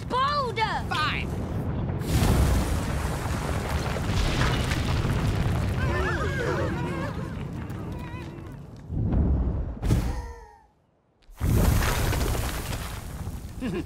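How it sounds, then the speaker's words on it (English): A cartoon volcano erupts and explodes with deep rumbling booms and roaring blasts that continue for many seconds, under excited character voices and shouting, with a brief lull near the end before the rumble resumes. "The volcano is going to explode!"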